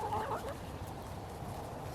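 Free-range chickens near their coop, clucking faintly and intermittently against a soft outdoor background, with no talking.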